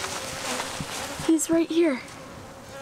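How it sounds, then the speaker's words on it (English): A honey bee emerging from its wax cell in a hive during a honey harvest gives off a close, wavering buzz in several short bursts, heard under a person's voice and background chatter. "There's a bee being born."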